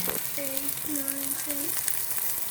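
Shrimp burger patties fry in a pan with a dense, even sizzle throughout, while a few faint tonal blips sound in the background.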